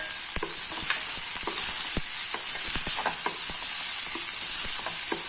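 Ginger garlic paste with tomato sautéing in a pan, a steady bright sizzle with repeated spatula scrapes and taps in an irregular rhythm, close by and without talk.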